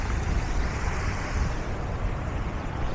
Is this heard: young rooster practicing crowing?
no